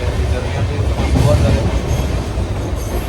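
The Saurashtra express train rumbles along steadily with a loud, continuous low roar and faint rattling of the carriages, heard from inside at close range.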